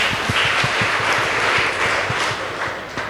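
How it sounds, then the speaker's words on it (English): Applause rises for Chewoyet High School at a high school debate contest, a close, dense wash of clapping from a crowd with a few distinct sharper claps standing out, no speech over it. "Please give them a round of applause."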